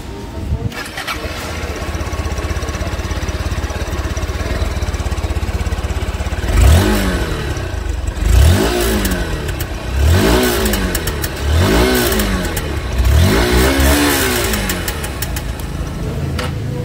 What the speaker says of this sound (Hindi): अब दोस्तों एसपी 160 का एग्जॉस्ट साउंड सुन लेते हैं।